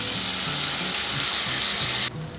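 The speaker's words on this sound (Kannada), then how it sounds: "ಇವಾಗ ಮತ್ತು ರುಬ್ಕೊಂಡಿರೋ ಅಂಥದ್ದು ಮಸಾಲ ಸಿಡಿಯುತ್ತೆ, ಸ್ವಲ್ಪ ಅಷ್ಟೇ ಸಿಡಿಯುತ್ತೆ" Ground masala roasting in ghee hisses and crackles steadily, a loud, close frying sound that cuts off abruptly near the end, with a faint tonal hum beneath and no talking.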